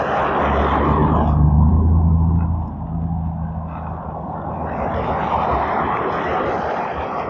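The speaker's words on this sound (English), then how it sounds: "I'm sorry about all the traffic." Cars pass along a neighborhood road, heard from a slow electric trike. A loud rumbling pass-by swells and then fades into a softer engine drone as further traffic continues.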